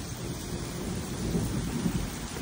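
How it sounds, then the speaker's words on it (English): Thunder rumbles through heavy rain over Fort Lauderdale, Florida, a steady, dense downpour with a low, rolling rumble that fills the whole stretch and swells slightly toward the end; no voices. "Oh, there's some thunder."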